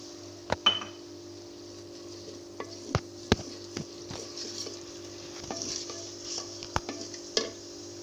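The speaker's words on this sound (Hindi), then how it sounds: "अब मैं इसमें प्याज डाल रही हूँ।" Onions sizzle steadily in a pot while a utensil scrapes and clinks against the sides now and then, close up, with no talking.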